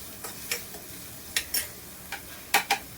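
Onions browning in a frying pan give a low, steady sizzle, broken by about eight sharp spoon scrapes that arrive in pairs and clusters, close and fairly quiet, with no talking.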